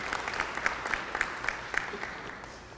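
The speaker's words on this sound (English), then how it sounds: "Hamilton deserves a round of applause." Audience applause at an early child care education advocacy forum, a steady wash of clapping with some sharper individual claps standing out, moderately loud and without talk.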